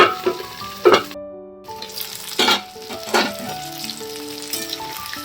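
Food fries in a pan while it is stirred, a close sizzle broken by a few loud scraping knocks of the spoon and a brief silent gap, no voices.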